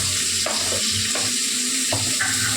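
Curry ingredients fry and sizzle in a pan, a continuous close hiss broken by short scraping stirs at regular intervals.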